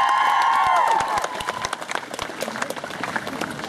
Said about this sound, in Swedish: Ja, här är din pokal. En stor applåd!